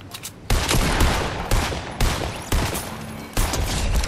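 Semi-automatic sniper rifle fire in the video game Fortnite, five or six loud, close cracks spaced roughly half a second apart, each with a rolling tail.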